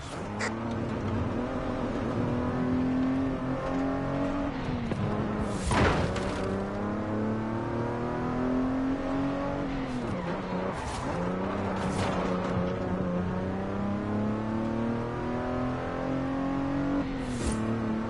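Mazda Miata engine in Forza Horizon 5 driving through woods at a volcano base, a steady buzzing drone with rising and falling revs through gear changes and occasional tire noise, no voices.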